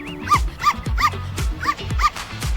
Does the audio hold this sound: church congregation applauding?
no